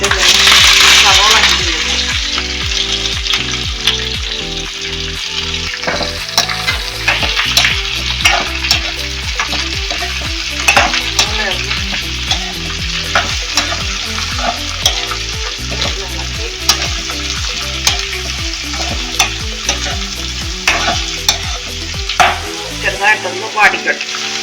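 Onions fry with crushed ginger and garlic for beef curry, a loud steady sizzle punctuated throughout by rhythmic clinks and scrapes of stirring, with a faint tonal background.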